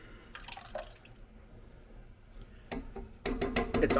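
Twenty-four ounces of crushed tomatoes pour from a can into a soup pot for lasagna soup, a soft wet splattering and dripping that grows into a thicker, louder glugging slop near the end.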